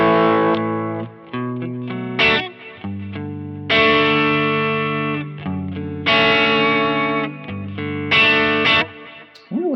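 Electric guitar played through a bright, trebly pedal capture on a Quad Cortex, with distorted, effected chords and single notes ringing in short phrases with brief pauses between them.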